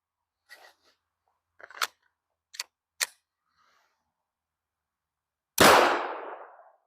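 A Walther WMP .22 WMR pistol fires a single sharp, loud round after several quiet clicks and metallic handling sounds, the shot ringing out with a short decaying tail.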